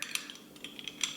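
Tablespoon tapping and clinking against a glass jar of homemade jam, a handful of light, bright metallic ticks spaced irregularly, close and quiet with no talking.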